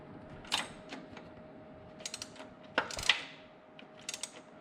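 Hand wrench working a 13 mm alternator bolt on a Ferrari 308: sparse, faint metallic clicks and ratcheting ticks in short clusters against a quiet garage background, no talking.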